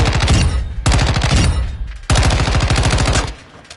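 The Chimera assault rifle with a 30-round magazine fires in Call of Duty MW2 on PS4 in a Search and Destroy match, in three loud, close bursts of rapid automatic fire.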